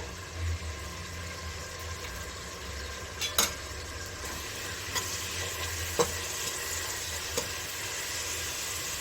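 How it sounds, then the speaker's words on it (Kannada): Onions frying on medium flame in a pan, a soft continuous sizzle under a low hum, with a few sharp spatula scrapes and taps as they are stirred. "ಈರುಳ್ಳಿ ಚೆನ್ನಾಗಿ ಮೆತ್ತಗಾಗೋವರೆಗೂ ಮೀಡಿಯಮ್ ಫ್ಲೇಮಲ್ಲಿ ಚೆನ್ನಾಗಿ ಹುರ್ಕೋಬೇಕಾಗತ್ತೆ"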